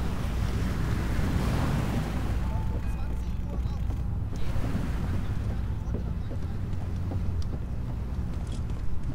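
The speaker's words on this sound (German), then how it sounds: "Ach ja, das schöne Meer" Sea waves in the Medal of Honor Allied Assault game, a steady roar of surf and wind, with some faint background sounds and no talk.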